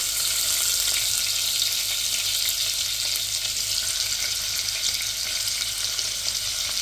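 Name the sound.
garlic frying in hot oil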